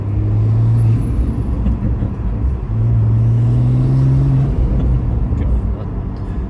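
A Toyota GR Supra A90 fitted with an MST intake drones steadily up close, its engine note rising and falling with a faint turbo whine layered over the rumble.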